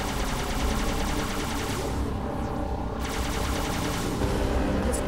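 Rapid automatic gunfire from a Halo 2 firefight on Legendary difficulty on PC, dense continuous bursts of shots with brief breaks, loud and close, with no talk over it.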